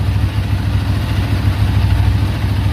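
A warmed-up Buell 1125 motorcycle engine idles close by, a steady, loud, lumpy low rumble with a regular mechanical beat and light clatter, with no voices over it.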